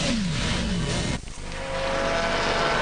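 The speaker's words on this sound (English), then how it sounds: "Hezeman's Kumpen's car is now ahead of David Terrien's Viper" GT race cars, including a Viper, pass at speed at Magny-Cours during a 2002 FIA GT race, with a loud engine roar and a falling pass-by pitch, then a brief dip and renewed engine noise.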